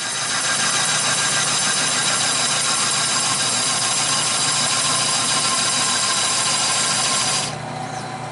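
A wood lathe spins a cherry bowl, a loud steady motor whine with a continuous hiss of the tool cutting the outside of the wood, dropping slightly near the end.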